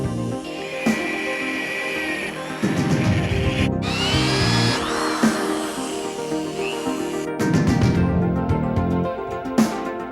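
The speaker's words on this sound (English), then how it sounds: "I want to pass the drill down through the hole to drill through the top plate of the first floor" A power drill bores through a wooden top plate inside a house wall, whining and grinding loudly in long bursts that stop and restart, with wood chatter and rubbing between runs.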